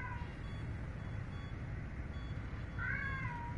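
A cat meows in the video game inFAMOUS Second Son, a short faint cry near the end over a steady low background hum.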